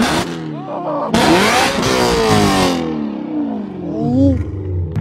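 A BMW M3 engine revs hard up close, a loud rising and falling roar with sharp pitch sweeps and a crackling burst midway, heard on its own without talk.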